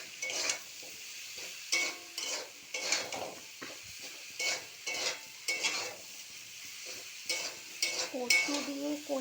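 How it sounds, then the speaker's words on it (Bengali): Salt is stirred into a taro and koi fish curry in a pan, the spoon scraping in short repeated strokes over a faint sizzle, close and regular. "লবণটা দিয়ে মিশিয়ে দেবো ভালো করে।"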